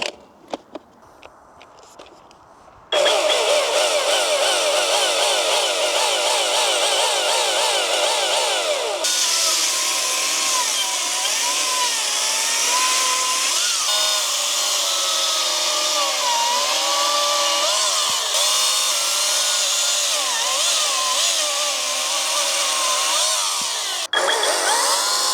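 A Cramer CS36 battery chainsaw cuts cookies from a log, its high, steady whine starting after a few seconds of quiet and running loud and continuous, with pitch shifting under load as the chain bites and finishes each cut.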